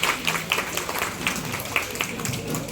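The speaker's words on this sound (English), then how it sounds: "Can you please clap them and encourage him?" An audience at a kids' school parent orientation program claps to encourage a child, producing a brief patter of scattered applause from a small group, with voices mixed in.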